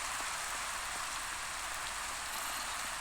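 Steady rain in Minecraft, a continuous even hiss of falling drops with no pauses, close and moderately loud.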